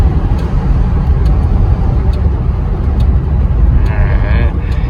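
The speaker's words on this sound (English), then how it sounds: "So on this road here is going to be our acceleration test." A 1970 Ford LTD with a springy ride and a smoking, slightly rough engine pulls away in a steady, loud in-cabin drone of engine and road noise, continuous throughout with no clear rise in pitch.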